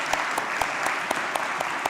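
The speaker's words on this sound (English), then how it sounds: "So I just want to clap and cheer for Michael and Donna." An audience at a Sunday church service claps for a couple, a dense continuous applause with a few sharper individual claps standing out, close and steady with no clear cheering voices.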